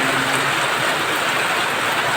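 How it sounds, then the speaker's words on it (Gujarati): A loud, unbroken wash of heavy rain pouring down, steady hiss with no pauses or voices. "ફૂલ વરસાદ પડી રહ્યો છે"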